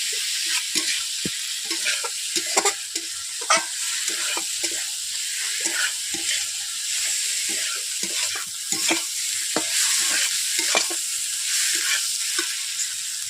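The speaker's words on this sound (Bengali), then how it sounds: "আমি গুগলিগুলোকে এইভাবে আমি কষে নিচ্ছি যেমনভাবে মাংস কষে চিকেন কষে নেয়" Snails (gugli) being stir-fried and stirred in a pan for a village-style curry, with a steady loud sizzle and irregular scraping clatter of the spatula throughout, no talk.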